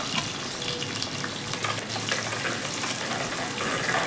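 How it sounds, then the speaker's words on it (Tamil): Sliced small shallots fry in oil in a clay pot for a village-style fish curry and are stirred, making a dense, loud, steady sizzle with a hissing, watery texture and no talking. "சின்ன வெங்காயத்தை சேர்த்து நல்லா கிளறி விட வேண்டியதுதான்."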